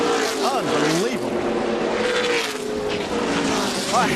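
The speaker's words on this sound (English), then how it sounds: "A heavy crash in the final corner of the race." NASCAR race cars roaring through a heavy crash in the final corner, a continuous loud engine drone with rising and falling pitch sweeps, commentators talking over it.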